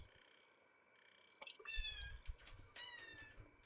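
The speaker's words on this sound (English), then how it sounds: "Here's your little Wawa kitties." Cats meow faintly a few times in a quiet room, short rising calls at a moderate distance, with a little background noise.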